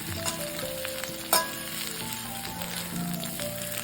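Bitter gourd sautés in a pan with a soft, even sizzle and a single sharp metallic clink partway through, close and with no talk, over a faint low background hum.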